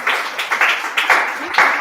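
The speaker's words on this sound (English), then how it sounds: "give a big applause to Miss Emilia for her time to share" Steady applause from an audience, dense clapping rising and falling in waves throughout.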